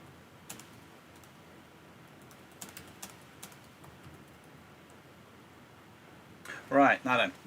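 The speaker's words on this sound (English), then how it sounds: "I'm just typing a message." Typing on a computer keyboard, a few sparse, soft clicks and taps at a quiet desk, followed at the end by a short burst of speech.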